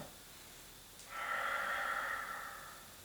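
A single long breath during a Pilates exercise, a steady airy hiss that swells in after a second and holds for about two seconds before fading, close and alone with no talk.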